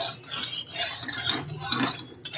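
Hot oil stirred in a pan before paneer goes in: a brief, close spell of continuous metal scraping and clinking of a utensil against cookware, with no talking.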